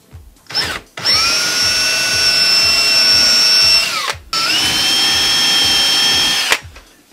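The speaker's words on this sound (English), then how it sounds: "Carefully drill a 5mm hole to 12mm deep." A power drill whirs in two long bursts with a short pause between, a close, loud, steady high-pitched spinning whine boring a 5mm hole into wood.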